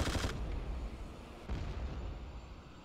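Heavy gunfire and explosive rumble from dogfighting planes in the Airfix Dogfighter video game, a dense loud barrage with a sharp burst at the start and another surge midway.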